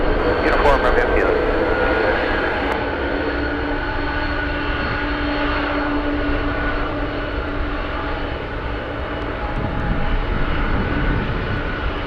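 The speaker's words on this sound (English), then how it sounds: "That's the Strato tanker." A Boeing KC-135 Stratotanker roars steadily at Anchorage airport on a gusty day near runway 15, its broad engine rumble filling the scene while radio chatter and voices come through intermittently.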